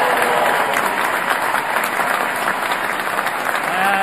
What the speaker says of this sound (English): So let me hear just a round of a whooping applause here.